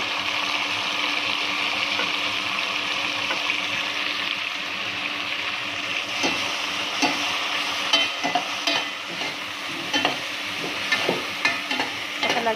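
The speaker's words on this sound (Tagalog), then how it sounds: "Pailo na natin yung kamatis at saka sibuyas, sabay-sabay na yan" Tomato, onion and garlic sauté in a pan, a dense continuous sizzle with irregular clinks and scrapes of stirring growing more frequent toward the end; close and fairly loud, no talking.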